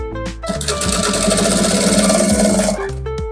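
Sewing machine stitching through a folded bias strip on a man's trouser, a steady loud mechanical whirring run that starts and stops briefly at each end, heard alone without talk.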